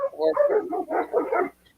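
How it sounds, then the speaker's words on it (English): A pet dog barks in a quick, close run of harmonic yaps and whines, loud for about a second and a half before falling quiet, heard indoors during a chat. "that's my dog. If you heard that, that's right."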